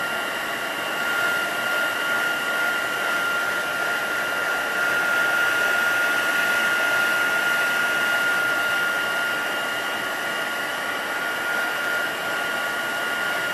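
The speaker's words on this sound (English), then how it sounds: "flip it over and add heat to the back, and that should eliminate some of that curl and start to flatten the card out" A heat tool blows hot air onto the back of a curled card panel during a card-making session, flattening it. A steady, continuous whirring rush plays close and loud throughout, with no talk.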